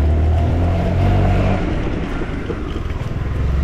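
A Honda SH350i scooter engine pulls steadily up a slope, a loud, continuous low drone with smooth, even revving and wind rush over it, close and without talk.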